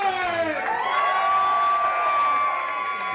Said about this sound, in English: Riling up this crowd, perhaps riling himself up.